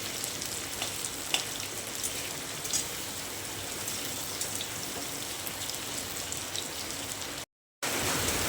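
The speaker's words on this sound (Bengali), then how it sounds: "প্রথমে আমি সেদ্ধ করে কেটে রাখা আলুগুলো দিয়ে ভেজে নেব" Boiled potato pieces fry in hot oil with a steady, dense sizzle and crackle that runs continuously at close range, briefly cutting out near the end.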